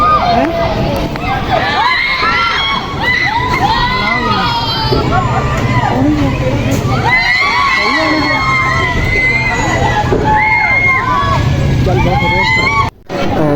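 Many people shrieking and yelling together on a horse-themed amusement park ride, a loud, continuous wall of screams and crowd noise, rising and falling in waves.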